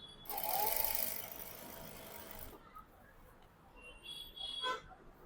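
Domestic sewing machine running in a short burst while stitching a blouse collar at a quarter-inch margin, a brief whirring run that stops partway, followed by quieter handling noises.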